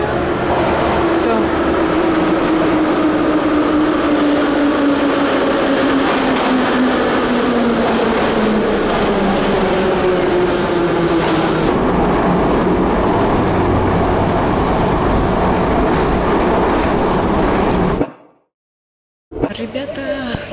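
Trains moving through a railway station in Saint Petersburg, a loud continuous rumble with a long falling tone, station noise and a brief dropout near the end.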